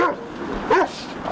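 A dog barks once amid a crowd of people being moved back by an escort during a Russian court-related arrest scene, with voices talking around it.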